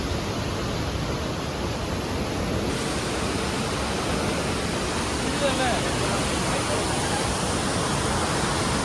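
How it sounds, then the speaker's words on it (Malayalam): A heavy river in Kasol during the monsoon rushes in a loud, steady roar that fills the whole span, close by, with no pauses. "ഹെവി റിവറാട്ടോ വരുന്നത്"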